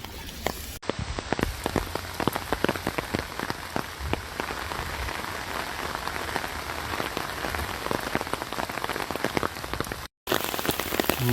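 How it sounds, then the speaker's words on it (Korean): Heavy rain falls in Sydney, a dense, unbroken patter of drops drumming on surfaces nearby. The downpour stays loud and even throughout, except for a brief dropout near the end. "이건 진짜로 비가 너무 많이 와"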